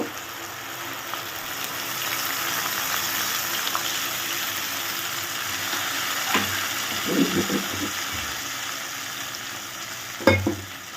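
Rinse water poured into a pan of ginger and spice paste frying for cauliflower rezala gives a steady sizzle and hiss, with a few stirring knocks and a sharper splash and clatter near the end.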